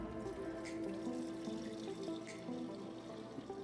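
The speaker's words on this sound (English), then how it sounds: "now we're gonna try to strain this out without making a mess" Homemade spiced rum being strained from one container into another, a steady close trickle and splash of liquid pouring throughout, with no talking.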